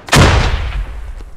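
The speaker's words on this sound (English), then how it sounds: "I'm gonna shoot him." A single loud, close gunshot in the military shooter game Squad, sharp crack followed by a rumbling tail that fades over about a second, with a faint second pop near the end.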